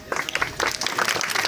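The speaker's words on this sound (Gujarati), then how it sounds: "આપણે સૌ તાળીઓથી વધાવી લઈશું." Applause from an audience at a teacher's farewell ceremony in a Gujarat village, steady dense clapping throughout, fairly loud and close.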